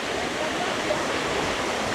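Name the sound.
lake water falling into a river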